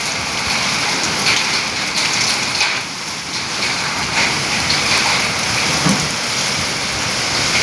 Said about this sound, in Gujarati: અત્યારે વરસાદ વરસી રહ્યો છે